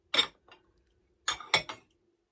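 A green McDonald's glass is handled, giving two clusters of bright clinks and taps: one sharp knock with a small follow-up, then a quick run of three knocks, close by with no talking.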